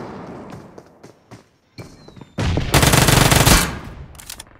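Uzi submachine gun firing in PUBG Mobile: a few scattered clicks and shots, then a loud sustained burst of rapid automatic fire lasting about two seconds, followed by a couple of trailing shots.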